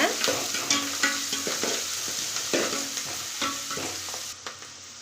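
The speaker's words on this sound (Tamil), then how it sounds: "வெங்காயம் சேர்த்துக்கலாம் கருவேப்பித்தலை சேர்த்துக்கலாங்க எல்லாத்தையும் ஒன்றா வதக்கி விட்டுக்கலாங்க" Onions and curry leaves sautéing in a pan under a steady sizzle, with regular scraping stirs of a spoon against the pan every half second or so, close and without speech.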